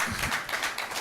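A church congregation claps hands in a quick, steady rhythm, several sharp claps blending together across a brief moment.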